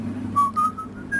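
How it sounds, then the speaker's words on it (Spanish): A character whistles the Peer Gynt theme in the film M, a thin tonal melody of a few rising notes, fairly close and alone over a low hum. "y que va silbando el personaje"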